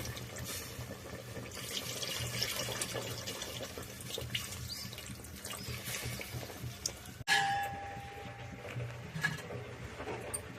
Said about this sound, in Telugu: చింతపండు రసం పోసేద్దాం